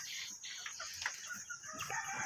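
Farmyard chickens cluck and chatter in a quick irregular stream of short calls, faint and somewhat distant, with a rooster-like call briefly standing out among them.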